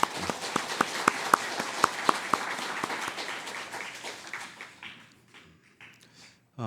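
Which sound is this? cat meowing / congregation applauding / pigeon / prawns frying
congregation applauding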